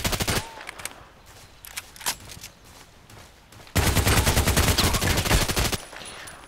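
RPK machine gun firing in the online shooter Contract Wars: a sharp opening burst, scattered single shots, then a long loud sustained automatic burst, close and dominant, trailing off into quieter game noise.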